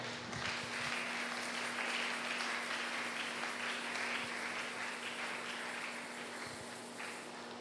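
A church congregation applauds in praise during a French-language worship service on healing, steady sustained clapping filling the room with a faint electrical hum beneath.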